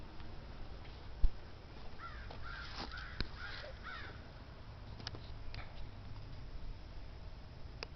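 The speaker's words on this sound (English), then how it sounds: "Whoa, that sounds like a crow." Crows caw in a few short rasping calls at a moderate distance over a quiet outdoor background, with a sharp knock early on and no speech.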